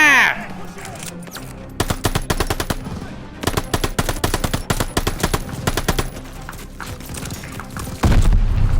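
Bursts of MG5 machine gun fire in the Call of Duty: Vanguard battle, rapid loud repeated shots in several long strings separated by short gaps, with a heavy boom at the end over a continuous battlefield background.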